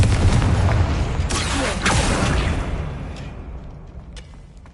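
A Confringo fire spell explodes in Hogwarts Legacy, a loud deep boom that rumbles and slowly fades over several seconds, with a second burst partway through and faint crackles trailing off at the end.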